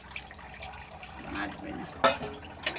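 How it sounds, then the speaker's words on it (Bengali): Hot water poured into a pressure cooker holding Bangladeshi country chicken curry, coming as short splashy gushes with a sharp burst near the end, close by with faint kitchen background. "গরম জল করেছিলাম দিয়ে দিলাম"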